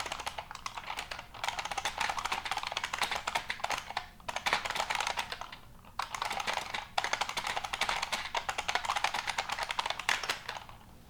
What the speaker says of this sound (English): if you try and like use this keyboard next to your workmates, they're going to be very upset with you